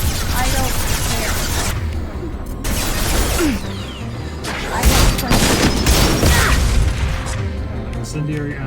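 Gunfire with incendiary ammo rattles and booms in a space trucking video game, dense, loud bursts and impacts overlapping with clanking mechanisms and layered effects, while a player talks over them.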